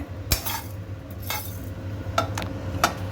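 Dry fenugreek and cumin seeds roasting in a hot kadai, with a few sharp metal clinks and scrapes of a spoon stirring against the pan over a low steady background.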